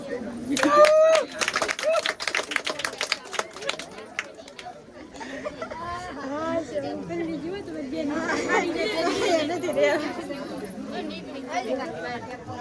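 A group of people clapping at a gathering, a brief burst of scattered handclaps up front that soon gives way to lively crowd chatter and talking.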